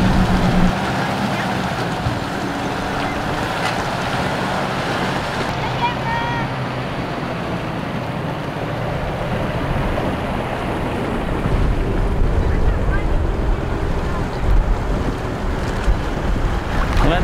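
A 4WD pushes through a shallow river crossing, with continuous loud rushing and splashing water close by, buffeted by wind noise, while people talk over it.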